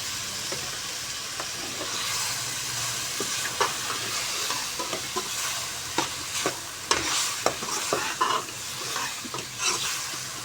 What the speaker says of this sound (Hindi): इसको अच्छे तरीके से हम मिक्स करेंगे